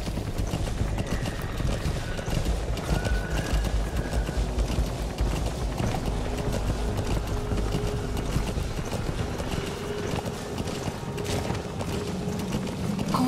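In the Metal Gear Solid 5 video game, a horse gallops with steady, rapid hoofbeats carried under a dense, continuous wash of game ambience, with no pause from start to end.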